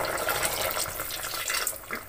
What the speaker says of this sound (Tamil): இப்போ நம்ம வந்து எக்ஸ்ட்ரா தண்ணி ஊற்றிக்கலாம்.